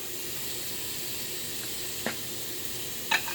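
Food cooking on a stovetop heat in a home kitchen gives a faint, steady sizzling hiss, broken by a couple of short clicks or clatters near the end, with no one speaking.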